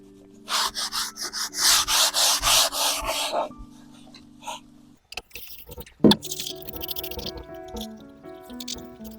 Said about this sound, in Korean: 그냥 거품 날 정도로만 닦아주면 돼요. 다 세탁 세제로 닦으면 되거든요.